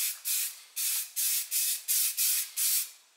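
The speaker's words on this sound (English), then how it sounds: "one more coat of primer" Spray primer goes onto the front end of a 1968 Pontiac GTO in about eight short, even hissing bursts, each with a brief pause between. The hiss is close and clear, with no talking.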